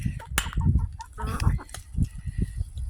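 Chickens in a coop during freezing weather cluck and squawk close by in short, busy bursts, several birds overlapping with a sharp higher call standing out early, steady low murmuring beneath.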